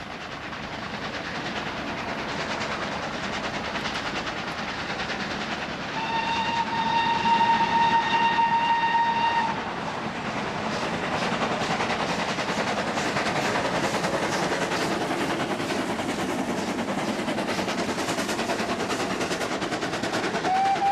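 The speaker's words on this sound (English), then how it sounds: "Engines make the most steam and smoke going uphill" A Great Western Railway steam locomotive labors uphill with steady, rapid chuffing, and a long whistle blast sounds early on before the heavy rhythmic puffing continues.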